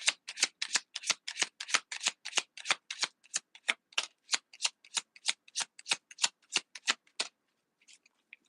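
Tarot cards riffled and shuffled for a deck pull, a rapid run of about twenty-five crisp, evenly spaced flutters that stops abruptly, followed by a few faint soft card taps; no talking.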